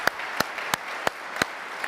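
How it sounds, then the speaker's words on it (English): A small audience at a tech conference presentation claps briefly, with several loud, evenly spaced claps standing out over a light, steady patter. "we can clap for that"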